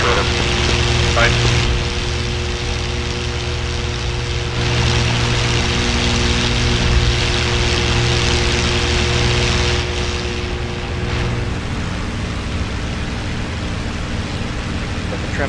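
Propeller fighter engine roaring continuously as a P-51D Mustang takes off down the runway in the flight simulator DCS, a loud steady droning hum with throbbing tones that barely shift, and a voice talking over it.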